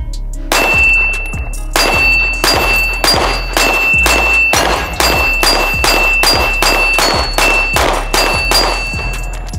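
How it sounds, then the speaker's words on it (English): A rapid series of about seventeen loud, sharp gunshots from a Springfield Prodigy 1911 DS pistol firing 115 grain brass ammunition, evenly spaced close together with no talking. "Chambered the first round. Let's just see how it shoots."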